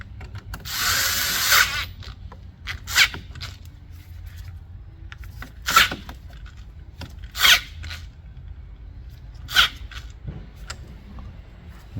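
Short bursts from a power driver tighten a battery terminal on a 1999 Dodge Dakota, several quick whirring pulses spaced apart with quiet between them, close up.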